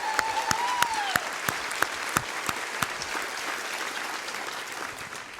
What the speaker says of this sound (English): So give it up for my sister, Jan, who's here.